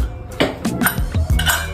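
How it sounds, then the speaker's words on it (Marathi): A cooled pressure cooker being opened, metal lid scraping and clanking against the pot in a handful of close, sharp knocks and rattles, no talk. "आता आपला कुकर थंड झालेला आहे, तर मग आपण बघूया खोलून."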